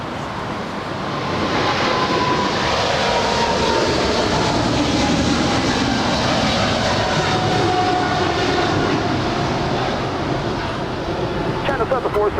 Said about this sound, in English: China Southern Cargo 777 freighter now rolling.